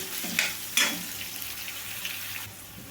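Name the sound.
onions frying on medium flame for kurma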